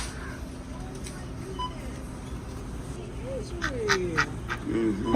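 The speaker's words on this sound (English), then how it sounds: "It's a duck." A duck quacks in the video game Tower of Fantasy. Several short nasal quacks come through, growing louder toward the end, while people talk over a quiet background.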